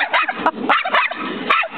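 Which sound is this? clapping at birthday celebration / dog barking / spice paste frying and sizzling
dog barking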